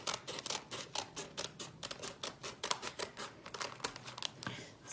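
Scissors snip the very edge off a sheet of paper while crafting a sea-themed journal, giving a rapid run of close, crisp cuts and crinkles in an irregular rhythm, with no talking.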